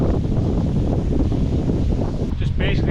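Strong wind gusting hard across a kayak during a fishing trip, a continuous loud buffeting roar that fills the whole stretch with barely any letup.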